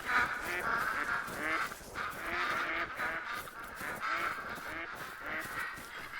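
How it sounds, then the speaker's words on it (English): Ducks in the Call of the Wild hunting game honk and quack loudly as a flock flushes, the calls repeating in a steady rhythm over wingbeat noise for several seconds, close and without talk. "I'm going to go ahead and spook these ducks."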